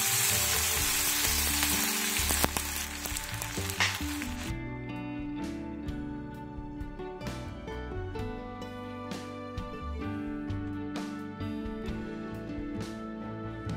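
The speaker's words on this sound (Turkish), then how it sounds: "Yine yağladığımız böreğimizi tekrar ocağımıza alıyoruz." Oiled börek cooking in an uncoated cast iron pan on the stove: a dense, loud sizzle at first that settles into quieter crackling with sharp, irregular pops and spits, close up and with no talking.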